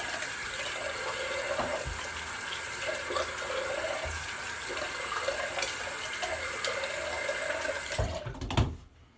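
A sink tap runs steadily as a razor is rinsed during a straight-razor shave, a loud continuous splash with brief clinks, then cutting off abruptly near the end.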